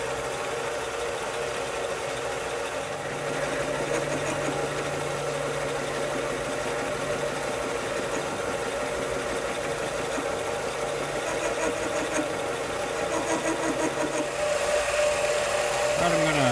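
A metal lathe makes a cut with a steady mechanical whir and a tonal hum, running continuously at moderate loudness with faint talk partly underneath.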